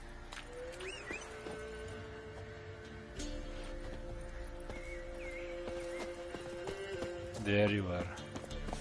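Roach, the horse in The Witcher 3, clip-clops along at a trot with a whinny near the end, close and clear beneath game music while someone speaks briefly.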